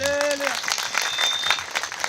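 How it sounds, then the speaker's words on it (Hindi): A crowd claps steadily throughout, with a voice speaking over the applause and a brief whistling tone early on. "ताली बजाइए प्रभु।"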